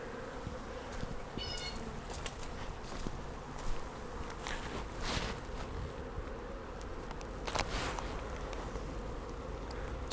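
A swarm of honey bees released from a queenless hive box, flying about in a dense, continuous buzz with individual bees droning past close by, some whines rising and fading.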